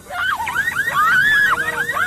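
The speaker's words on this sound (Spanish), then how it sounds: "Entonces salta la alarma" A car alarm goes off during a street robbery in Australia, cycling through loud rising and falling electronic whoops and chirps, close and continuous with no talking.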